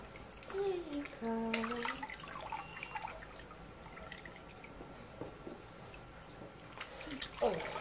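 Gentle water sloshing and dripping in a baby's warm bath with a rubber duck, soft and close, under an adult's cooing talk and a few small child vocal sounds.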